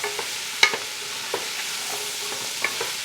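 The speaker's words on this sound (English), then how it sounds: "those ingredients need to saute for about 2 minutes" Carrots, celery and gold potatoes saute in a pot under a low steady sizzle, with a few light scraping stirs and taps scattered throughout, close and without speech.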